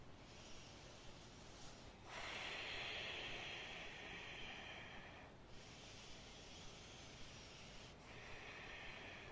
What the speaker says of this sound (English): Deep cleansing exhales.